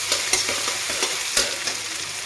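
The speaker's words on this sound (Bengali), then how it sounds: "গ্রেট করে রাখা আদা আর কাঁচা লঙ্কা, আদা সাথে আমি একটু ভেজে নিব" Grated ginger and green chili fry in a pan with a bright, continuous sizzle, punctuated by quick scraping stirs every fraction of a second, close and alone.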